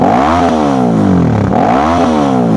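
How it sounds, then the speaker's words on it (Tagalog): A Suzuki V-Strom 650 motorcycle fitted with a full-system GPR exhaust revs high, close and loud. The engine note climbs and falls in repeated sweeps as the throttle is blipped and held. "gusto niya mag-rev na mataas"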